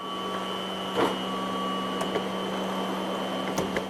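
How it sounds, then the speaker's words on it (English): A sign printer runs continuously in a print shop, giving a steady mechanical hum with a few soft clicks and knocks from the mechanism, heard close with no voices. "Sign after sign after sign. The printer can't keep up."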